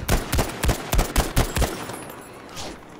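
A quick string of about seven close, sharp M1 Garand rifle shots in Battlefield 5, evenly spaced, then fading into quieter background noise.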